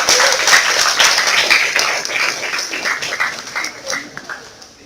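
Congregation at a Portuguese-language church service clapping and applauding loudly together, a dense wash of hand claps with voices mixed in, fading slightly toward the end.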